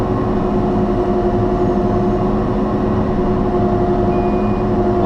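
A Cat 305.5E2 mini excavator drives around, its engine giving a steady, loud droning hum with a faint tonal whine running through it.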